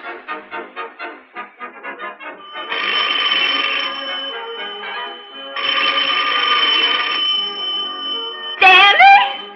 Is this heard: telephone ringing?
yes